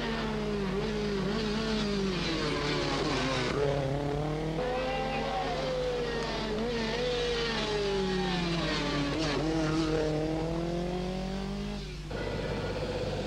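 Rally cars racing through the 1983 Tour de Corse, with engines revving and rising and falling in pitch as they accelerate, loud and steady across the clip, a brief dip near the end.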